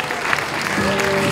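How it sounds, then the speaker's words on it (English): Round of applause at an anniversary celebration in a hotel venue as an employee is called on stage, a close, loud patter of many hands mixed with crowd murmur and a brief tonal voice sound. "A round of applause for her."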